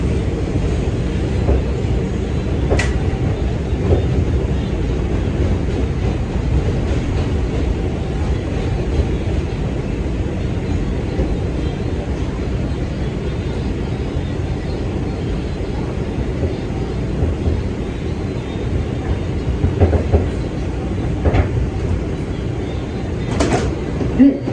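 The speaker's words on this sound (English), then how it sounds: "This is a Manhattan-bound 2 train." Continuous low rumble of a Manhattan-bound 2 train on the New York subway at Bronx Park East station, steady and loud, with occasional clanks and a brief muffled voice over the din.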